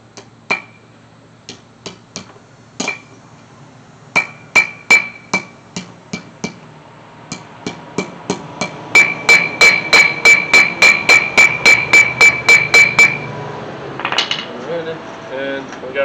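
Metal hammer blows tap a seal into the front end of a 1979 Chevy C10, starting as scattered ringing strikes and building into a fast, steady run of sharp metallic hits.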